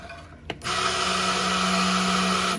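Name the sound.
mixing hot process lye soap batter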